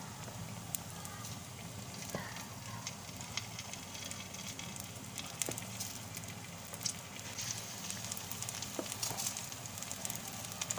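Eggplant pakora batter fries in hot oil, a steady broadband sizzle with crackling pops running continuously and fairly quietly throughout.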